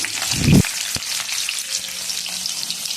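Potatoes frying in a pan: steady broadband sizzle throughout, with a brief louder low thump of stirring or handling near the start, no talking.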